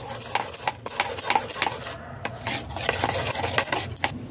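A spoon stirs and scrapes through thick Rajasthani dal pakora batter with rice flour in a bowl, giving repeated close rasping strokes in an irregular rhythm with no talk.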